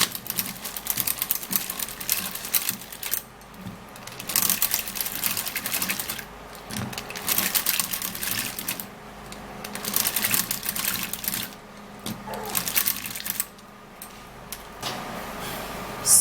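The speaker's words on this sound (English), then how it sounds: "we would have to be reaching out for a manual mixer to mix it up so that it's going to be properly mixed" A hand-operated mixer whirs through a skincare mixture for hands, in repeated bursts of rapid mechanical rattling separated by brief pauses.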